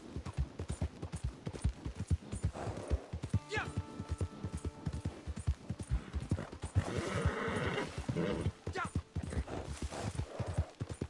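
Rapid, rhythmic hoofbeats of a galloping horse in the video game Red Dead Redemption pound throughout, with a brief whinny partway through and a person talking over it in French.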